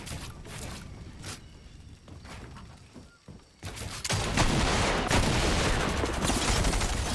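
Gunfire in a Fortnite match, a shotgun among the weapons, with bursts of shots, scattered blasts and footsteps early on, then a louder, denser barrage of firing fills the second half.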